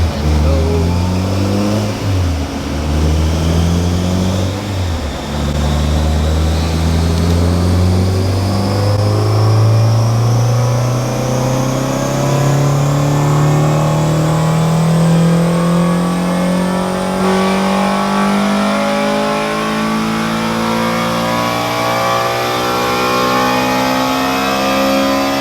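A Honda Type-R engine on a dyno revs loud and close, climbing steadily in one long pull to high rpm with a sharp VTEC surge, its howl rising throughout.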